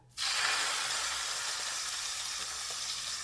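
Ground bison hits a hot skillet on a hot plate and immediately starts sizzling loudly, a bright, crackling frying hiss that holds steady and close.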